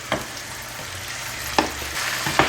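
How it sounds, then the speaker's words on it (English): Beef sizzles steadily in hot oil, frying in batches for crispy chilli beef, with a few louder crackling bursts as pieces are stirred or added. "I'm gonna do maybe about 3 lots of frying, 3 batches here"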